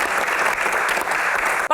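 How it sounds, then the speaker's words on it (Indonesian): An indoor studio audience claps in a dense, steady burst of applause lasting under two seconds, loud and close, then cuts off abruptly. "Tepuk tangan dulu biar semangat."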